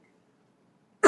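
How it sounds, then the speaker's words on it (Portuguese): A person with a hoarse, strained voice gives one loud, abrupt cough that breaks a near-silent pause and is cut off right at the end. "Eu preciso totalmente tossir um pouco."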